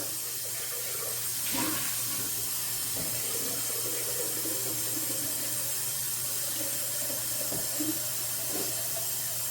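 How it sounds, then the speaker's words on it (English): Water runs steadily from a tap, a continuous hissing splash into a sink or pot, with faint clinks and knocks now and then. "add some water"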